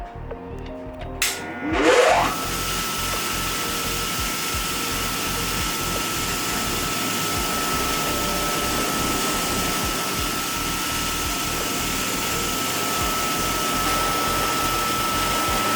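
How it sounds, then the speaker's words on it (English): A blending wheel grinds a Graco part held on a jig, giving a steady, close, continuous whirring hum with a brief louder rise at the start, running alone without talk. "the blending wheel I find gives you a little bit better of a finish"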